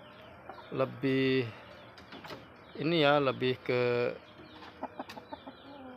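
Pakhoy chickens in a small home-scale backyard coop give several bursts of clucking and squawking, some loud and close, while someone talks in Indonesian in between the calls.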